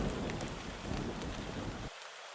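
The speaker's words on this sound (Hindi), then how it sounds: "तेज आंधी के साथ मूसलाधार बारिश शुरू हो गई।" Heavy rain driven by strong wind in a Hindi cartoon story, a dense steady hiss of downpour that cuts off abruptly near the end, leaving a faint low hum.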